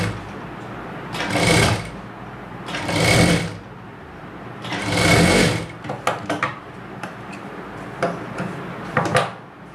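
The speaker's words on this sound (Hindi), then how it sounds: "ऐसे रख करके इतना 3 सूत का अंतर रख के हम इसको सिलाई कर लेंगे।" A sewing machine stitching a blouse runs in three steady bursts of whirring, each a couple of seconds long, followed by lighter clicks and handling of fabric and parts. There is no talking.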